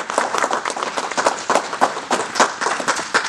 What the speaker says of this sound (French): merci à vous trois, et on peut les applaudir.